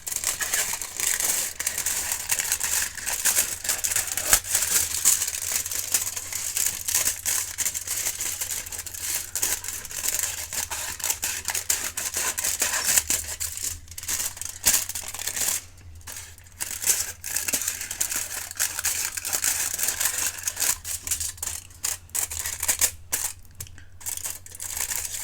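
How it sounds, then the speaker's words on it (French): Scissors cut around the edges of a craft piece for a metal-effect project, a steady crinkly snipping and rustling close up that continues alone for a long stretch without talk. "Je vais prendre mes ciseaux et venir découper tout autour à 1 cm."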